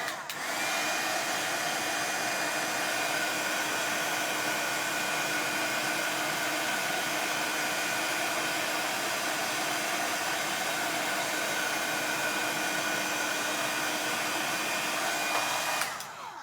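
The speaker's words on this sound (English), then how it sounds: "So I'm just heat setting it. I'm just going to put it high again." A heat gun set on high blows continuously while heat-setting embossing powder, a steady whooshing roar with a faint whine that runs unbroken for about sixteen seconds before cutting off.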